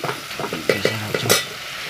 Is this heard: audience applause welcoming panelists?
no